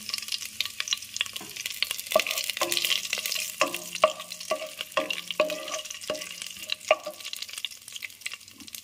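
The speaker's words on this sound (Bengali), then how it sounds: "আমি দিয়ে দিলাম তেলের মধ্যে গোটা জিরে, একটা শুকনো লঙ্কা, আর একটা তেজপাতা" Whole cumin, a dried red chilli and a bay leaf sizzle in hot oil left from frying duck eggs, with a steady crackle and a few spatula scrapes against the pan, close and moderately quiet.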